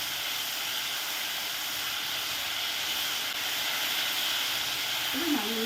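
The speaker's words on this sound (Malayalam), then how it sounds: "കുറച്ച് ഇഞ്ചി വെളുത്തുള്ളി പേസ്റ്റ് കൂടെ ഇടാം" Ginger garlic paste sizzles steadily in a hot pan, a loud broad hiss filling the whole stretch, with a brief voice near the end.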